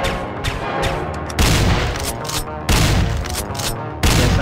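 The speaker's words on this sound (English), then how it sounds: "Yes, I'm shooting a shotgun." Shotgun blasts in a sci-fi shooter game, three heavy booming shots spaced about a second and a half apart, each with a long rumbling tail, loud and close with no talk.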